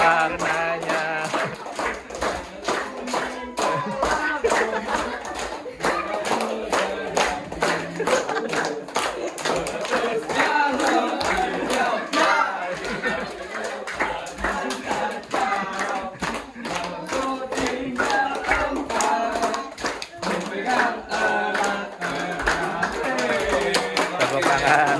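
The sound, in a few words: hands clapping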